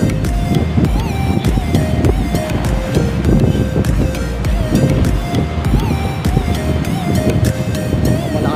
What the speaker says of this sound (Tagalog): Malakas ang alon po ngayon.